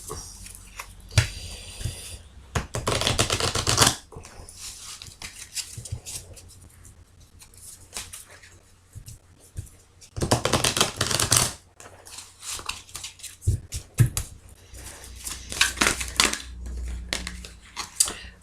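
Tarot cards are shuffled in several loud, rustling bursts separated by quieter stretches, heard close up with almost no talking.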